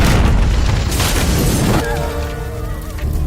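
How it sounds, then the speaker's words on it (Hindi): An RPG rocket blast in an action film scene bursts out as a loud, rumbling boom that fills the opening seconds, then gives way to a quieter tail with tonal film sound underneath. "अभी जस्ट यहाँ पे एक आरपीजी फटा है"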